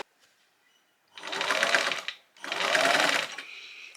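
Sewing machine stitching fabric binding on a fabric bird, two close bursts of rapid whirring stitching separated by a short pause.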